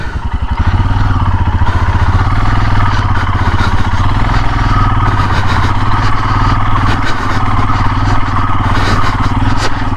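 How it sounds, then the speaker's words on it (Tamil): A motorcycle engine labours loud and close on a hill climb up Timmappana Betta near Manchanabele Dam, a steady throbbing drone with rattling clatter running throughout. "ஹில் மேலே பைக் ஏற்ற போகிறோம்."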